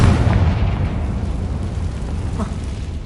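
A spell-blast explosion booms from a Harry Potter-style action game, a loud low rumble at the start that fades over about three seconds, with a faint brief crack near the end.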